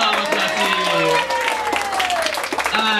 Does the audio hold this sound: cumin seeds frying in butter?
no